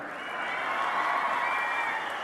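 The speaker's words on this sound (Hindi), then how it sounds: "देखिए ये ताली और बजा रही हैं" Women in a crowd at a political rally clapping and cheering together, a dense continuous wash of applause with some shouts, moderately loud and sustained throughout.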